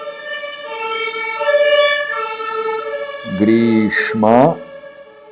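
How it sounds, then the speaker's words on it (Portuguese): An ambulance siren wails close by on a city street in Germany, its tone rising and falling steadily, while a voice speaks briefly over the final seconds. "Ih, vai passar ambulância, hein?"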